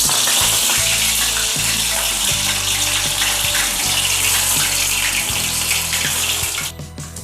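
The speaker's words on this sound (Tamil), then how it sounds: "நம்ம இது எல்லாத்தையும் டீப் ஃப்ரை பண்ணிடலாம்." Corn pieces deep frying in hot oil, a loud, dense, continuous sizzle and bubbling that holds steady for several seconds before dropping off abruptly near the end.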